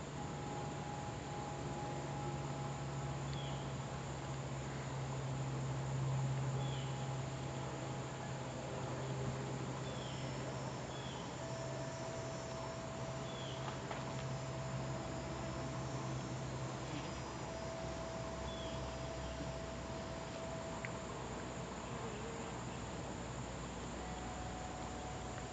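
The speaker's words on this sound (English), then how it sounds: "The bees are just buzzing like crazy here." Many bees swarm around a honeycomb, making a dense, steady hum that holds at an even level throughout with no pauses.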